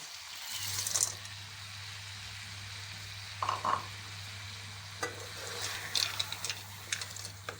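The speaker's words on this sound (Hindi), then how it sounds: "अब इनको 2 से 3 मिनट के लिए अच्छी तरह से भून लेंगे।" Potatoes and beans frying in a pan with spices, a continuous soft sizzle under a low hum, broken by a few sharp spoon taps and scrapes against the pan, close and without talk.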